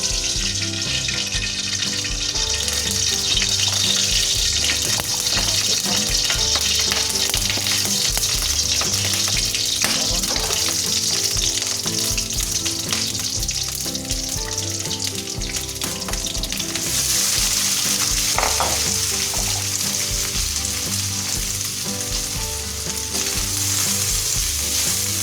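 Hot oil sizzling and frying steadily in a Teflon pan while pizza is being made, a dense continuous crackle with occasional stirring and clinks, close and fairly loud, with no talk.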